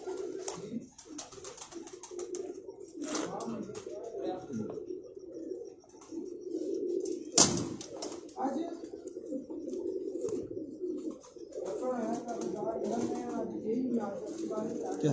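A champion racing pigeon at a Rawalpindi loft cooing in low repeated coos among other birds, with people talking intermittently nearby.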